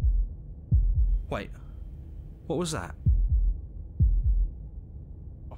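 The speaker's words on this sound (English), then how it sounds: "That was the sound of a heartbeat" A heartbeat in the video game Slay the Princess thumps as deep, low double beats in a slow steady rhythm, repeating several times while someone talks over it.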